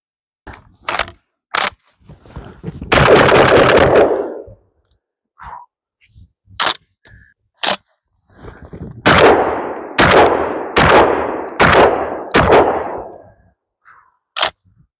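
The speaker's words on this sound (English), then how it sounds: "let's go ahead and send some more rounds and see at what point it decides that that's not good enough" A Washington-compliant M4-clone shotgun fires a series of loud, sharp shots at irregular intervals outdoors, some blasts trailing off longer, with metallic clicks of the action between them.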